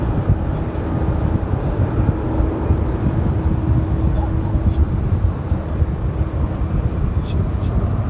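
A Frontier Airlines A321 at Dallas-Fort Worth airport gives off a steady, distant jet roar. The low rumble holds evenly throughout, with no talk.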